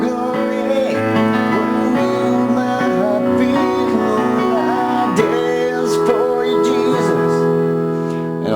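A keyboard plays the chord progression of a worship song, with sustained layered chords changing every second or so, loud and close, and no talking.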